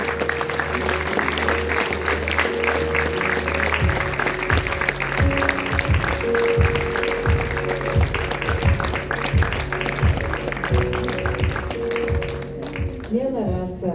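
Audience at a mixed choir's 30th anniversary jubilee concert in Domeikava claps steadily for about fourteen seconds, a dense loud round of applause with music playing beneath it.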